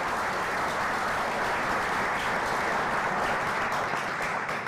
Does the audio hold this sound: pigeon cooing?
no